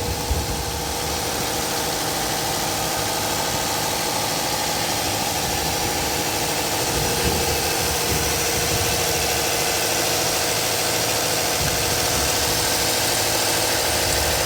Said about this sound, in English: So here's the engine. It sounds okay, not so bad, but not perfect.